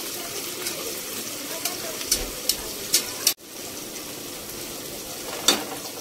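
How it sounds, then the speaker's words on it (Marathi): Onion and tomato sauté in a pan for vegetable biryani, giving a soft, continuous sizzle with a few sharp clicks and a brief stir partway through. "कांदा परतून घ्यायचा, तो पण थोडासा मऊसूत होईपर्यंत।"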